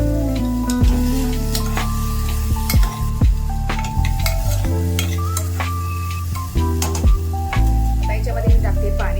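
Washed moong dal being sautéed in a pan, with a steady sizzle and repeated sharp clinks of a spoon stirring against the metal, close and loud with no talking.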